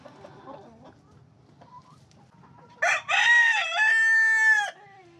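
A rooster crows loudly and close by, one long strained call that rises and holds before breaking off, after a stretch of quiet background noise.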